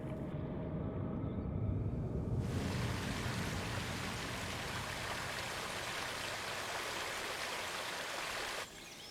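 Water flows steadily in a spring-fed stream, a continuous broadband rushing and trickling that stays even and close throughout, with no voices.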